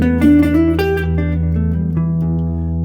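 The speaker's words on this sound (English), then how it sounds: "The minor pentatonic scale is a natural minor scale minus the 2nd and minus the 6th" An electric guitar plays a short run of single notes up a minor pentatonic scale over a sustained low tone, clear and close.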